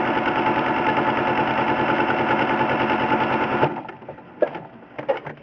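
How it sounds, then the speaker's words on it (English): A sewing machine runs steadily at speed, sewing a quarter-inch seam on fabric rectangles for a scripture cover, a continuous mechanical whir that stops partway through and leaves faint handling clicks. "you sew a 1/4 inch seam"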